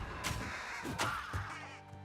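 Crows caw in Elden Ring in its Shadow of the Erdtree DLC, three or four harsh calls spaced about a second apart over a steady low game ambience and a droning music bed.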